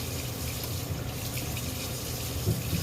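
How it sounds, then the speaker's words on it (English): Tap water runs into a kitchen sink while spilled pasta is rinsed under it, a steady close gushing splash with faint bumps, no speech. "Some of my pasta fell into the sink. I'm gonna rinse it off."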